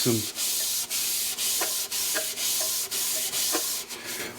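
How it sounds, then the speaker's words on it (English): Scotch-Brite pad on a block rubs across an aluminium engine part, a close, steady scrubbing in regular back-and-forth strokes with brief pauses between them. "I'm just gonna take the old Scotch-Brite and a block and make"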